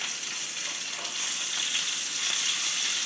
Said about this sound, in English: Now this will just start cooking and sizzling, and caramelising, and that's what you want.